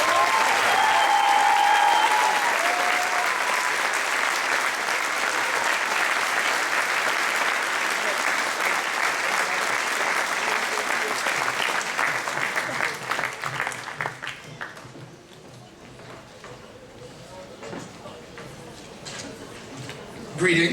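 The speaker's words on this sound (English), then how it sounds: "please give a round of applause to our RIT outstanding" Sustained, loud audience applause at a university commencement ceremony, a full crowd clapping steadily for about fourteen seconds before fading out to scattered claps and room tone.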